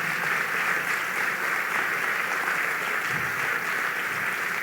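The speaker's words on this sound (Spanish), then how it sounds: "Dale fuerte ese aplauso, Señor." Congregation applause during a worship service, a broad continuous wash of clapping heard at moderate distance, steady with no pauses.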